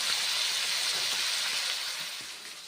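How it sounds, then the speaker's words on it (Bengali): Pumpkin slices and chickpeas fry in a hot pan with oil, giving a steady sizzling hiss that stays fairly quiet and even, fading slightly toward the end, with no talking. "ছোলা দিয়ে কুমড়ো ভাজা নেড়ে চেড়ে ভেজে নিচ্ছি"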